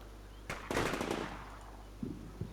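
Sniper fire in the war game Combat Mission: Shock Force 2: one sharp crack, then a louder shot with a rolling echoing tail, followed by two fainter distant pops against a quiet background.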